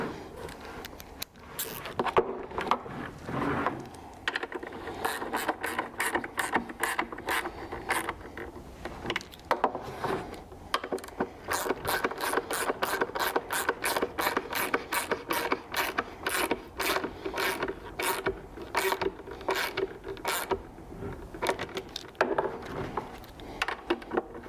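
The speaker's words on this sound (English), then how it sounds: "Once I've got them both started, I'm ready to tighten them with the Allen wrench." An Allen wrench tightens bolts while fitting a snorkel to a third-generation Toyota Tacoma, producing close, repeated ratchety clicks and scraping turns in a long, fairly regular rhythm.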